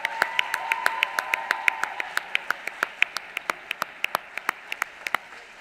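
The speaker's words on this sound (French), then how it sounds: "On peut vraiment les applaudir." Clapping at a university award ceremony comes as a run of sharp, evenly spaced claps that stay fairly close and keep a steady rhythm, with a faint humming tone underneath in the first couple of seconds.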